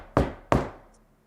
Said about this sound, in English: will give a gentle knock on the door